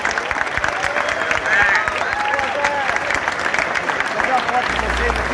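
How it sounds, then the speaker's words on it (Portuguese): A stadium crowd at a football match applauds while announcers talk over it, steady clapping and crowd noise with a few whistles and a voice or two rising above the din. "Uma salva de palmas para o Zé Mauro dos Santos"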